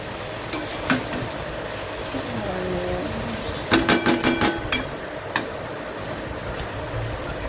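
Okra bhaji cooking in a pan, a low steady sizzle broken by a quick run of clinks and taps from a utensil against the pan, with faint voices in the background.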